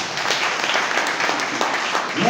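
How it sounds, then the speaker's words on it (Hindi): Audience applause at a talk in a hall, a dense burst of clapping from many hands, loud and steady and close, with no voice over it. "एक बार जोरदार ताली हो जाए।"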